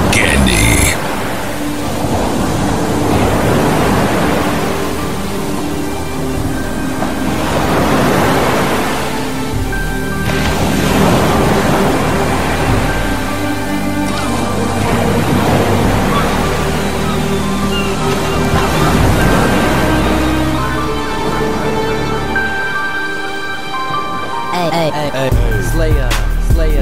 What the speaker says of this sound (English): when you hear the sounds of the ocean, that means that the Sports Jock Show is nearing its end